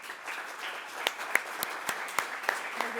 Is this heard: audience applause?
yes